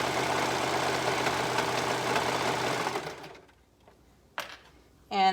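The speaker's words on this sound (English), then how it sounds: "we're just sewing the 2 layers of the band to the 1 layer of the cardigan" A sewing machine stitches two layers of knit band onto a single cardigan layer, a steady close mechanical whir for about three seconds before stopping and leaving near quiet with a couple of brief sounds.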